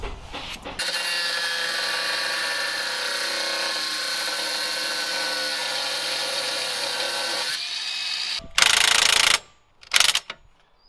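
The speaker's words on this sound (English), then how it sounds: "so we're going to cut that nut off" A power cutting tool grinds through a seized nut on the shock absorber of a Mercedes Vito W639 campervan, a loud sustained high whine for about eight seconds, then two short louder bursts.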